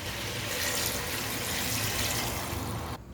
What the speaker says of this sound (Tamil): இப்போ நம்ம கறி வேகிறதுக்கு தேவையான அளவு நம்ம தண்ணி சேர்த்துக்கலாம்